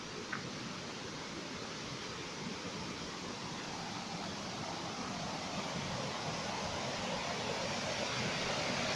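White water pours steadily over a weir in Rouken Glen Park, a broad, unbroken rushing roar heard close and fairly loud throughout, with no voices.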